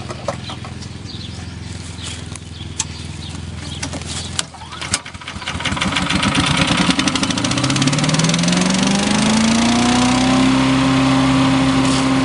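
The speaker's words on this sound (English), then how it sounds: "Asher and Judah have been out mowing today." A lawn mower engine drones in an outdoor garden, first at a rough steady idle with a faint rooster nearby, then revving up after a brief dip and settling into a louder, rising hum.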